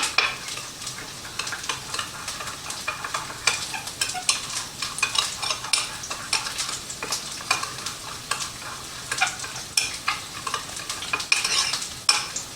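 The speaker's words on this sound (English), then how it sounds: "I hear my onions cooking in the background." Onions frying in a pan give a soft, crackling sizzle with frequent stirring scrapes and light clatter, moderately quiet and continuous, with no voices.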